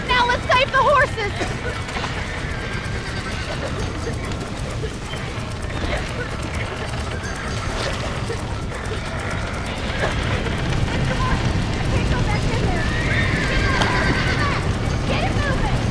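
Horses in Red Dead Redemption gallop with a steady clip-clop and let out occasional whinnies, mixed into a busy game scene with shouting voices and background commotion throughout.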